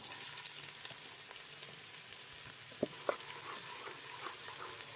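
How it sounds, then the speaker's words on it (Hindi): Onions frying in hot ghee give a steady, close sizzle that runs unbroken throughout, with a couple of sharp pops near the end and no voices. "घी गर्म हो गया तो प्याज ऐड करेंगे।"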